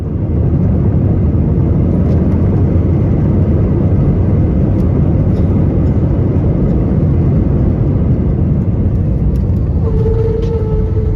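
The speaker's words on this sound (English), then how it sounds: "This Airbus A321 had to abort its takeoff after a problem with its instruments." An Airbus A321 rejects its takeoff after an instrument problem, its engines producing a loud, steady, broadband roar that holds throughout, with a faint tonal whine near the end.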